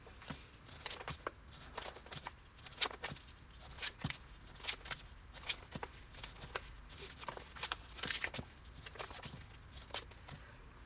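Soft crinkling and rustling of fabric and paper being folded for foundation paper piecing, close and quiet, in irregular bursts with no talking.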